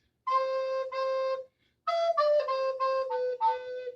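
An alto recorder plays a short melodic phrase from "Eine Kleine Nachtmusik" of sustained, breathy notes, pauses briefly, then continues with a string of stepping notes, clear and close.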